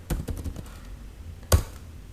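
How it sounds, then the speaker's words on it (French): Keys on a computer keyboard tapped in a quick burst of several clicks, then a short pause and one sharper, louder keystroke, close and clear with no talking. "Si je tape Yahoo"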